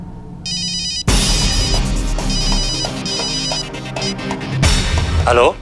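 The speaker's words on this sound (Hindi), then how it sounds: "लव भैया को लगाती हूँ।" An electronic phone ringtone plays loudly and continuously, a repeating melodic ring filling the room with no one speaking.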